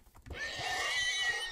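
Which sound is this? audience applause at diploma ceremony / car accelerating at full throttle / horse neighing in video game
horse neighing in video game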